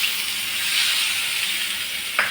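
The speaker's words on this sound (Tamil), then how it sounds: "இப்போ இது கூட கொஞ்சோண்டு நெய் ஊற்றிக்கோங்க." Ghee sizzles steadily in a pan while sukhdi (golpapadi) cooks, a continuous close hiss with a brief sharper crackle near the end and no talking.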